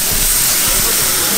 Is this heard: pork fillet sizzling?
yes